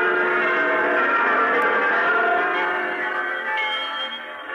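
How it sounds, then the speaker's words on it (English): Church bells ring together in a dense, sustained peal, many tones overlapping and shimmering, moderately loud and steady before easing slightly toward the end. "The little bells are ringing too."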